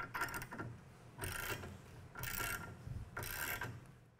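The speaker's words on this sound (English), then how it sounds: "when you tighten on the jack bolt, the plates are continuing to cantilever back" Jack bolt being tightened on a valve out tool used as a flange spreader, giving three or four broad ratcheting, grinding bursts about a second apart, close and moderately loud, with no talk.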